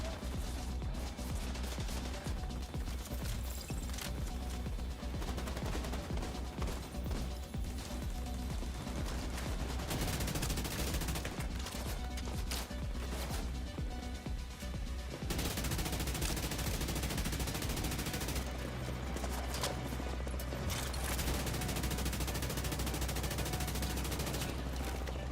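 Sustained automatic gunfire in The Division 2, rapid bursts rattling almost without pause for the whole stretch, with occasional voices underneath.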